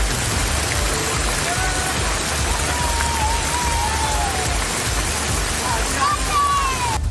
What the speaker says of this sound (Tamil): கொடைக்கானல் மலைப்பகுதியில் கருமேகங்கள் சூழ்ந்து கனமழை கொட்டியது.